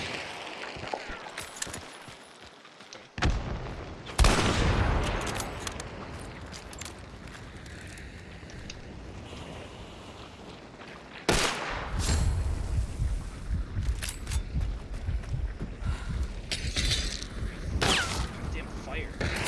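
Gunfire in the video game Hunt: Showdown: sharp, booming shots burst out at intervals, some loud and close with rumbling tails, while players talk over the game audio.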